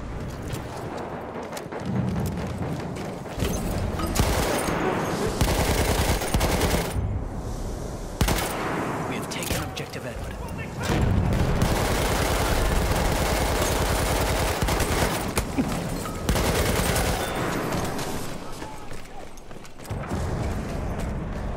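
An MG 08/18 machine gun firing in a video game, loud sustained bursts of rapid automatic fire that repeatedly stop and restart, layered over distant battle rumble.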